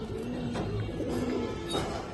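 Afsan Bagha silver pigeons coo softly and repeatedly in a steady, low murmuring chorus over constant background noise, close by.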